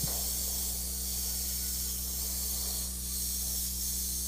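An airbrush sprays paint onto an oil painting, giving a steady, even hiss that runs unbroken for the whole stretch over a low constant hum.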